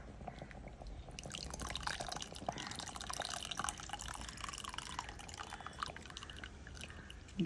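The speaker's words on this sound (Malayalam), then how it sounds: "പുളി ഒഴിക്കുകയാണ്." Tamarind water poured into a curry simmering in a stone pot, a steady soft liquid trickle and drip running throughout at low volume, with no talk over it.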